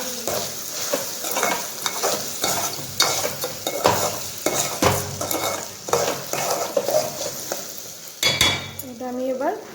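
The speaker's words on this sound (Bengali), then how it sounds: "তো এই যে আমি এবার ভালো করে মাখিয়ে নিচ্ছি।" Food is stirred and mixed in a hot frying pan, a spatula scraping and clinking against metal in repeated strokes over a steady sizzle, loud and close.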